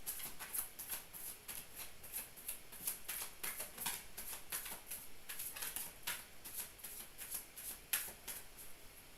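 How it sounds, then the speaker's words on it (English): Tarot cards are shuffled continuously in a quick, papery pattering rhythm with many soft flicks, close and quiet, with no talking. "One more shuffle."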